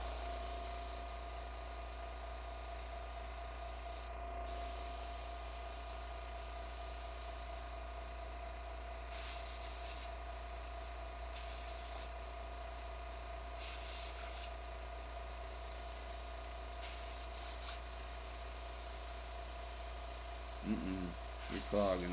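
An airbrush sprays paint onto an HO scale restaurant model, a steady faint hiss running throughout with slight surges, close by and alone.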